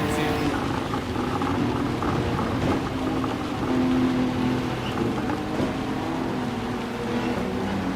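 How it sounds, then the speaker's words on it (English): Steady rain hisses across a racing scene at Suzuka in Gran Turismo 7, a continuous wash under droning race-car engines, with a commentator talking over it throughout. "It started raining more."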